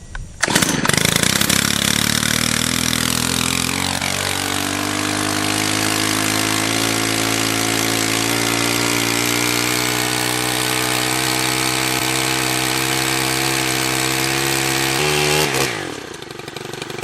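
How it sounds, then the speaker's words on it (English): A Stihl pole saw's small engine revs up and then holds a loud, steady high-speed drone for about fifteen seconds before dropping off at the end, close by with no talking. "So let's try out this new saw and see how it goes."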